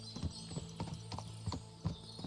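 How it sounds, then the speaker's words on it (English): Several horses clip-clopping in Kingdom Come: Deliverance II, irregular hoof knocks at close range over a quiet background, no speech. "What a lot of horses!"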